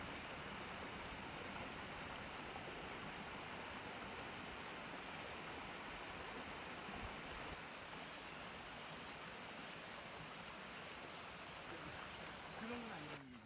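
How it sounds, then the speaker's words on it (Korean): A clear, cool mountain valley stream runs steadily, a broad even rush of water that stays constant throughout at a moderate distance, with no voices. "걷다 보니 물이 엄청 맑은 시원한 계곡을 만났어요"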